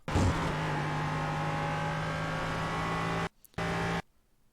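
An LMP3 race car in iRacing at the Zolder circuit holds a steady engine drone with strong harmonic tones, opening with a loud burst, then cuts out abruptly, returns briefly and stops.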